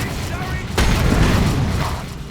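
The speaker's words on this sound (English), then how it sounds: "Scout Marines employing blind grenade." Scout Marines throw a blind grenade in Dawn of War III: a sudden loud burst hits after a short rumbling lead-in, then a broad roaring wash slowly fades beneath ongoing battle noise.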